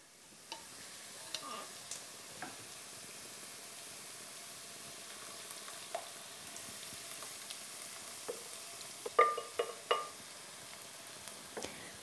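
Tomatoes and a spice mixture for a Goan fish curry frying in a pan, a faint steady sizzle with occasional light clicks and stirring taps, no talking.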